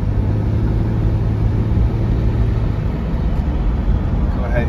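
A 1994 Jaguar XJS Convertible cruises down a residential block, its engine giving a smooth, steady hum over loud, continuous road and wind noise, with a voice speaking intermittently.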